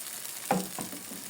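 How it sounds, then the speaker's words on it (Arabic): Blended onion goes into a hot pot and is stirred, giving a short soft sizzle with a quick knock of the spoon against the pot. "هننزل بالبصل المضروب. هنقلب تقلبتين"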